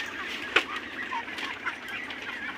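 Ducks on a duck farm quack and honk in a busy flock, with one louder nearby call standing out over a steady background of overlapping fowl noise.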